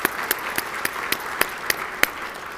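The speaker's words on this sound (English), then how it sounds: "Please join me in a round of applause for these people" A crowd at a radio station event applauds its sponsors, with sharp individual claps standing out over a steady patter of hands throughout the short burst.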